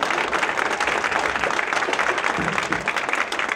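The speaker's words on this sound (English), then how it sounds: "Round of applause for Teddy." Applause from an audience at a Dominican Republic Independence celebration with Mayor Andrew Hardwick, greeting Teddy; steady dense clapping throughout, fairly close and continuous.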